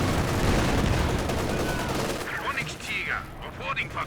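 Grenade blast and rattling gunfire in a Company of Heroes 2 match, a dense burst of shots and explosion noise up front that thins into scattered distant fire, with a commentator speaking over it.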